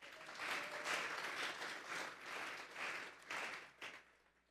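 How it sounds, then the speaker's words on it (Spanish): A church congregation gives a faint, fairly distant round of applause during a sermon, swelling in waves and fading out over a few seconds. "Vamos a darle un fuerte aplauso pues al Señor."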